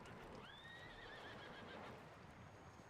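A horse in the video game Civilization VII gives a single clear rising-and-falling neigh over a soft, steady background hiss.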